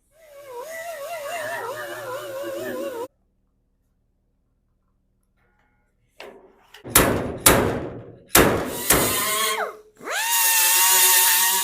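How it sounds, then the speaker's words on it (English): A stud welder pulls a dent from the roof of a 1979 Ford F100, with a few sharp bursts and metallic clacks after an earlier stretch of buzzing tone and a pause, close and loud. "So I'm gonna go ahead and pull that dent out"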